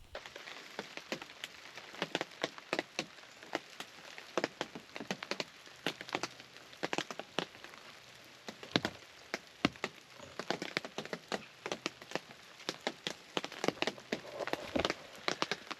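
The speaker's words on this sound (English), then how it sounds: "now it's trailing off, and it's some rain, light misting rain." Light misting rain after a winter storm with freezing rain and sleet, heard as faint, scattered patters and ticks of drops on surfaces, irregular and sparse against a quiet background.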